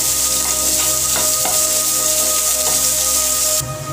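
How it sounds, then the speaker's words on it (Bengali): Chopped onion and green chilli with a pinch of salt fry in a pan, a close, bright sizzle laced with a few scraping stirs, then easing off to a quieter hiss at the very end. "পেঁয়াজ খুব ভালো করে ভেজে নেব"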